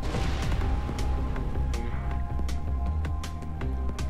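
Explosions in the space game Everspace 2: a string of sharp, punchy blasts and booms at irregular intervals over a continuous low rumble of engine hum and game music, fairly loud throughout.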